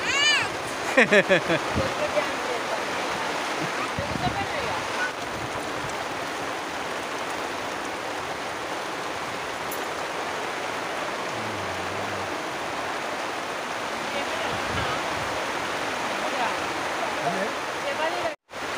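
Heavy rain pours down at a palm oil plantation in a dense, continuous roar, with faint voices now and then beneath it.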